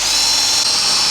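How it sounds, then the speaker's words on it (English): Power drill fitted with a 5mm bit boring holes for stainless steel rivets during a van build, one loud continuous high-pitched whine with no pauses. "5mm drill bit, goggles on."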